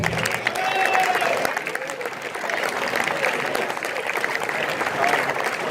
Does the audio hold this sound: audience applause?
yes